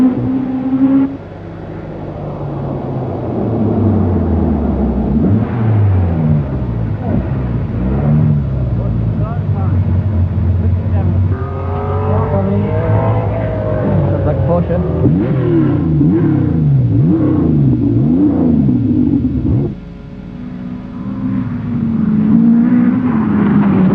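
Rally car engine with a cracked exhaust manifold, rough and raspy as it revs and changes pitch across the stage, loud and close, with a commentator talking over it throughout.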